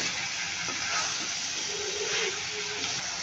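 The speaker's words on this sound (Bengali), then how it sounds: "লতি দিয়ে ভালোভাবে নাড়াচাড়া করে মিশিয়ে নেব।" Taro stolons being stirred into a pan of hilsa fish and spices, giving a steady close sizzle and hiss with soft scraping of the spoon.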